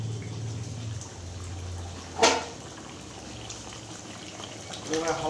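Hot water poured into a meat curry in a cooking pot gives a brief splashing gush over a quiet background of low sizzling and bubbling, with a faint low hum throughout.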